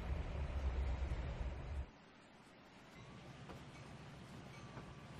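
A train passes in Trainz 2019 on a dockside route, a loud rumble that drops off sharply after a couple of seconds to a quieter rolling clatter with faint wheel squeals.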